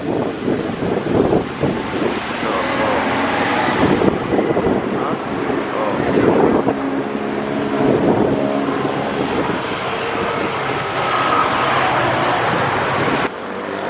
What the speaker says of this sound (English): This is the bus station. That's where all the buses are coming.